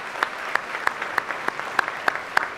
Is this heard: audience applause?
yes